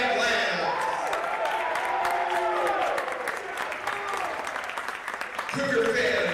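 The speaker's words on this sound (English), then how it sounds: "Cougar fans, let's have one big collective round of applause for our seniors" At a men's volleyball match, a gym crowd applauds the senior players and their families, with sustained clapping and scattered cheers, and an announcer speaking over part of it.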